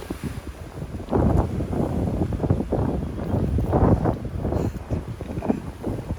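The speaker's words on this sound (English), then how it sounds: "It's getting windy." Wind gusts buffet a fishing boat out on the water while rockfish are being caught, a steady loud rushing roar with strong microphone buffeting and surging bursts throughout.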